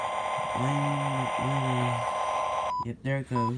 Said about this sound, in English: If you ever have to switch on like that, it's going to beep once